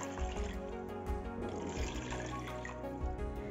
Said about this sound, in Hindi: मैं यहाँ पे 3 बाउल पानी डालूँगी।